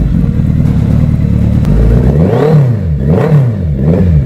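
Motorcycle engine revving nearby, a loud steady idle that rises and falls in several quick throttle blips toward the end.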